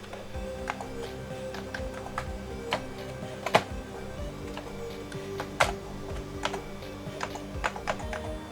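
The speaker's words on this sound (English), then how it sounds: "that's my keyboard playing up." Computer keyboard typing on a stream setup with an Amiga machine, irregular close clicks and taps over a steady low hum, with a couple of louder key strikes standing out.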